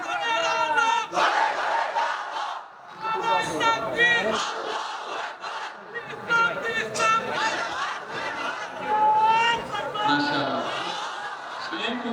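A large crowd at an Islamic religious gathering chants takbir together in repeated loud, rhythmic call-and-response bursts, densely voiced and close, with brief pauses between chants.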